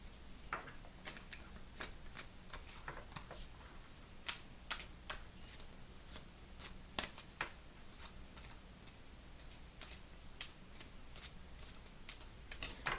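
Tarot cards being shuffled by hand up close: a long, steady run of crisp riffling clicks and snaps that keeps going for about thirteen seconds over a faint low hum, with no one talking.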